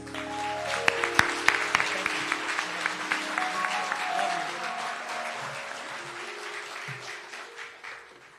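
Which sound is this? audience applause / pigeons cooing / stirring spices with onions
audience applause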